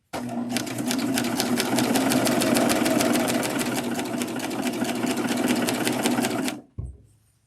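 A serger sewing machine stitching and trimming quilt binding runs steadily at high speed with a fast mechanical chatter, close and loud, then stops abruptly followed by a brief clunk.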